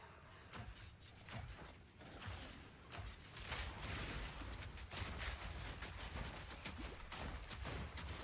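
Rapid shotgun blasts from a Saiga drum-magazine shotgun in Path of Exile 2, a dense run of loud, sharp shots firing in quick succession over a steady, busy game soundscape.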